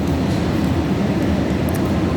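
A train rumbles at South Station in Boston, a loud, steady, continuous roar and rattle of rail noise filling the station with no break or speech.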